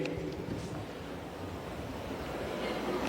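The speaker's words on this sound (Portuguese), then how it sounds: "Está ventando também." Wind blows outdoors in gusty, continuous rumbles across a microphone, steady and fairly loud throughout with no voices present.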